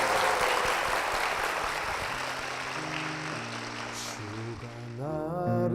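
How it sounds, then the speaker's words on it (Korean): A church congregation applauds in a dense, continuous wash of clapping. Partway through, sustained organ or keyboard chords rise beneath it and grow louder toward the end. "두 분께 축복의 박수 부탁드리겠습니다"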